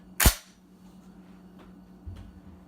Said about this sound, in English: you're gonna pull the trigger, you're gonna hear it fire